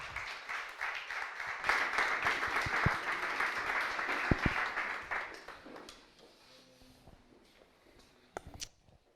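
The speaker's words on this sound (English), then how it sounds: "Applause" A conference audience at a sports and education event in Rome claps in a full burst of applause that thins out and fades after about six seconds, leaving near quiet with a few scattered knocks.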